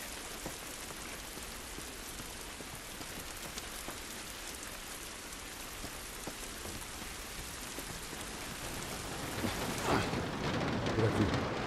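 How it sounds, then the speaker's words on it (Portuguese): Steady rain pours down in The Last of Us Remastered, a dense, even hiss of drops on surfaces that swells louder in the final seconds. "Essa chuva não vai nos ajudar."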